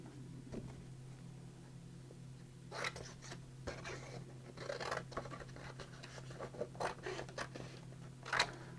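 Scissors trimming paper pieces for a holiday journal page, giving soft, irregular snips and paper rustles that come in scattered bursts over a steady low background hum.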